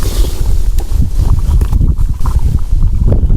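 Gusty wind outdoors at a camp cooking site after rainy days, buffeting the microphone with loud, uneven low rumbling and roaring bursts that rise and fall with no pause.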